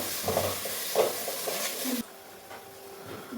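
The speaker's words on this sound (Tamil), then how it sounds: "அதையும் சேர்த்து நல்லா ராஸ்மெல் போகிற அளவுக்கு வதக்கிக்கலாம்." Ginger garlic paste sautéing in oil in a pan for country chicken biryani, with a steady soft sizzle and occasional spoon stirs and scrapes, fairly close, then quieter after a cut.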